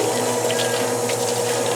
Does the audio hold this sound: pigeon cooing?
no